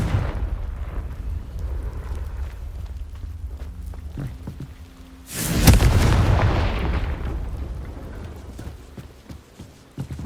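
A Confringo blasting spell in Hogwarts Legacy erupts in a single loud explosive burst midway, then rumbles and fades, with quieter game ambience before and after.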